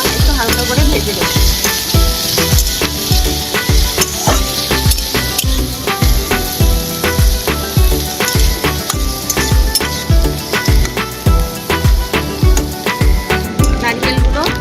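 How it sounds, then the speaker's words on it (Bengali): Coconut pieces frying in a pan, with a loud, steady sizzle running throughout and a rhythmic series of spoon scrapes and clinks against the metal pan. "নারকেলগুলো একটু হালকা করে ভেজে নেব।"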